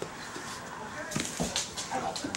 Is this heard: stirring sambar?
no